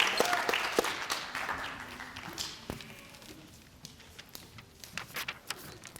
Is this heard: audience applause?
yes